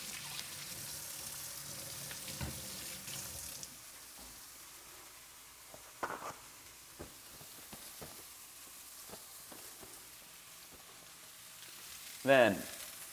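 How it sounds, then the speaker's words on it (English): Ground beef sizzles steadily in a hot pan for a Thai basil stir fry, a quiet continuous crackle with a few utensil knocks and a brief louder clatter near the end. "gonna drop in the entire package of ground beef"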